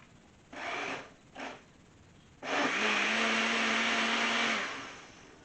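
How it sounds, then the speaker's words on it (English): Countertop blender pureeing peaches for canning, two short pulses followed by a sustained high whirring run of a couple of seconds that then winds down, close and alone. "Now I find the blender the easiest way to do this."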